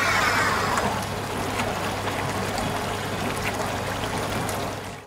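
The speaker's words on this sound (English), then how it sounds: "Water will be sprayed from the spray arms onto the dishes and the trays to wash away the dirt." A toy LEGO dishwasher's small water pump drives water through spray arms onto dishes and trays, giving a steady, close splashing and pouring rush with a faint motor hum beneath, continuous for several seconds before cutting off.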